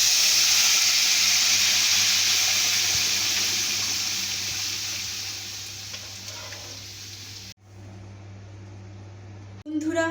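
Cooked dal poured into a hot oil tempering of bay leaves, dried red chillies and cumin for a Bengali veg dal, giving a loud, steady sizzle that slowly subsides, cuts out briefly, then returns at the end.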